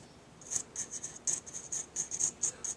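A homemade scoring tool wrapped in duct tape scoring material, making about a dozen short, sharp, high scraping strokes in a quick, fairly regular rhythm. The strokes are close and clear, and no voices are heard.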